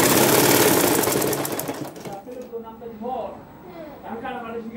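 A sewing machine stitching a dress collar seam runs in a fast, close rattle for about two seconds and then stops, after which a voice talks over quiet handling.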